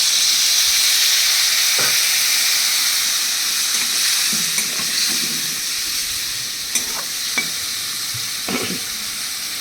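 Spices such as ground coriander and Kashmiri chilli powder sizzle in a pan as water is added, a steady hiss with occasional stirring clicks and scrapes, close and fairly loud, no voices.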